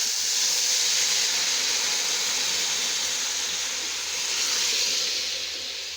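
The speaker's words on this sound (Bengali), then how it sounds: "এখন আমি ডাল দিয়ে দিচ্ছি।" Lentils poured into hot oil with onion and garlic fried until reddish for a thin masoor dal, giving a loud, steady broadband sizzle that holds for several seconds and eases slightly near the end.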